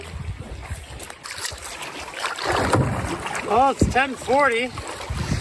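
Wind gusts across a lakeside campsite on a Temagami canoe trip, a breathy rushing noise rising and falling near the microphone while a person speaks briefly.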